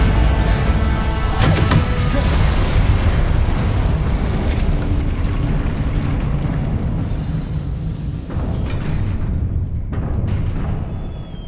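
Confringo spell blasts in Hogwarts Legacy, dense booming explosions with crackling bursts that keep up a loud, continuous roar and tail off slightly toward the end.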